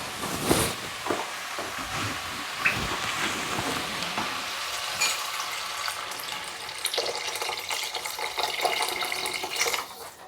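Water is poured into a soup pot on the stove, a steady splashing rush with a few knocks and clatters of the pot, mixed with soft sizzling, close and moderately loud.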